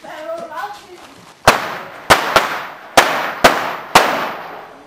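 Firecrackers from a bag go off outdoors on a compound, six or so sharp, loud bangs arriving irregularly after a few seconds of indistinct background chatter.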